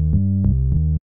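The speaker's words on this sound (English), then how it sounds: "We want something like triangle wave." Synth bass in Serum for melodic house, layered triangle waves one octave apart through a filter, playing a short run of low sustained notes with brief bright attacks before cutting off abruptly.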